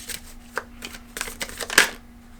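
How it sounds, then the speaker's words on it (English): Animal oracle cards being shuffled and drawn, giving close, quick riffles and soft slaps in short bursts over a faint steady hum. "I'm going to get some animal cards for you."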